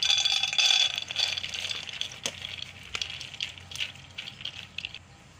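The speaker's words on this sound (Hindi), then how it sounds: "और साथ ही पानी शामिल कर दूंगी।" Water is poured into a kadhai holding chana dal, making a continuous splashing rush with rattling grains, loudest at the start and then settling into a softer, uneven trickle.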